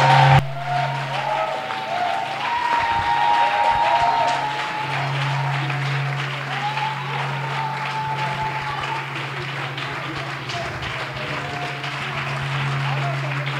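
Church congregation at a Sunday service claps and cheers for the Lord, a loud sustained wash of applause with a steady low hum underneath and voices mixed in.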